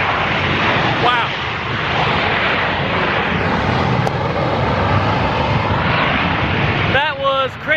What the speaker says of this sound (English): there's a plane landing right there.